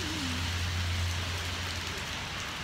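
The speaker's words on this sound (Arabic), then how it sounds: "والمطر امطار غزيرة" Heavy rain pours outside a hotel in Lisbon, a steady, dense hiss of downpour that fills the scene continuously, with a faint low hum underneath.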